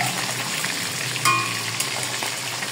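Fish marinated in vinegar and garlic frying in a pan, a dense, steady sizzle up close with a brief brighter crackle midway, no voices over it.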